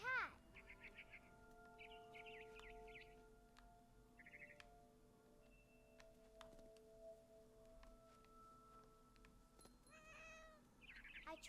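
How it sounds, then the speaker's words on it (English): A cat meows in the video game What Remains of Edith Finch, a loud rising meow right at the start, then sustained tonal game sounds and faint chirps, with a voice speaking quietly. "I was a cat."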